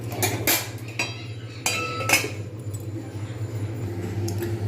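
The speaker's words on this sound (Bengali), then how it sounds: "একটু ঢাকনা দিয়ে দেবো" A metal lid clinks down onto a cooking pan of paneer and cauliflower curry with tomato and spices on a medium flame, a few sharp ringing taps over a steady low burner hum.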